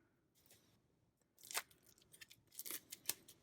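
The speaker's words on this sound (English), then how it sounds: "I might need my scissors here to open this one." Scissors snip through packaging in a quick series of sharp cuts, with crinkly rustling between snips, close up after a brief quiet start.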